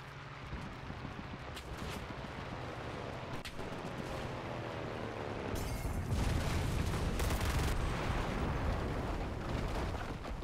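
An MP submachine gun fires in the Enlisted shooter amid a dense, continuous battlefield roar of shots and blasts that grows louder and heavier partway through.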